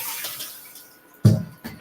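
Water drained off diced sweet potatoes in a kitchen sink, a soft flowing trickle that fades, then a sudden loud splash and a smaller one near the end.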